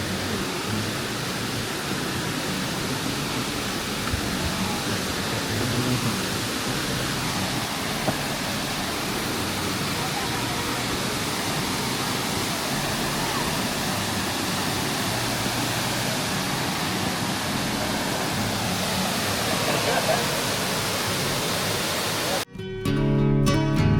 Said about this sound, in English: You hear a waterfall?